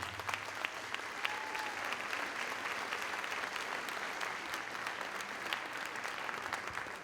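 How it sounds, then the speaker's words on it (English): Audience at a school district convocation breaks into sustained, dense applause, an even wash of many clapping hands heard from a distance and continuing unbroken for several seconds. "So can we give a real strong round of applause for the people in the call center?"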